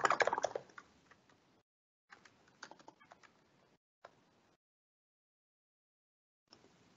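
A domain name is typed on a computer keyboard in quiet bursts of soft, close key clicks separated by silent pauses.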